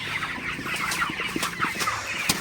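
Broiler chickens in a hot indoor shed cluck steadily as a dense flock, a continuous murmur of overlapping calls with scattered sharper clucks, no voices.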